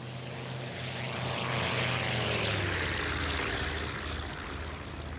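A6M2-N Rufe floatplane's propeller engine drones steadily in IL-2 1946 flight combat, a loud continuous hum that swells slightly mid-way, alone with no voices.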